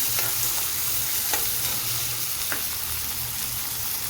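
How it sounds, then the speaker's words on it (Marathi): Onion and tomato stir-fried in a pan for a Maharashtrian mung dal onion bhaji give a steady, close sizzle, punctuated by several sharp scrapes of a spatula stirring, with no voices. "टोमॅटो घातल्यानंतर छान असं परतून घ्यायचं टोमॅटो मऊ होईपर्यंत"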